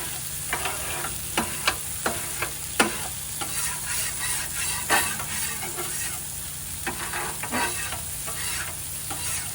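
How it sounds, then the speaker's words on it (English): Mayo-covered burger buns sizzling on a hot camp griddle for smash burgers, a steady frying crackle with several sharp scrapes and taps. "what I have here are some buns with some mayo on them, and I'm going to toast them"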